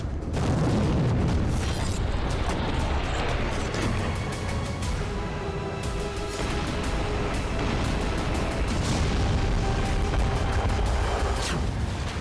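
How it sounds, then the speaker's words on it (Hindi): Continuous heavy rumbling with deep booms and crackling bursts, loud and dense, like a barrage of explosions during fighting in Afghanistan. "पूरे अफगानिस्तान के चप्पे चप्पे में बारूदी धमाके हो रहे हैं।"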